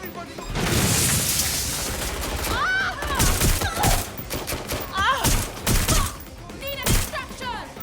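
Gunfire rattles in Watch Dogs Legion: a sustained volley of close, loud shots and bursts with repeated sharp cracks, while voices shout over the firing.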